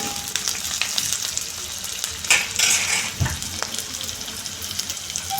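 Large chunks of onion fry in oil for chilli chicken, giving a steady close sizzle with occasional scraping stirs and brief louder crackles. No one speaks over it.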